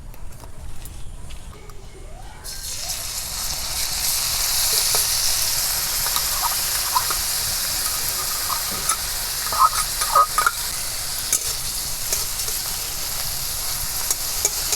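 Grated onion, garlic, ginger and chili frying in mustard oil, a bright continuous sizzle that starts after a quiet moment, with scattered stirring scrapes over it.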